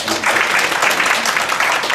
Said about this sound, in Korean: 감사드리는 박수 한번 다시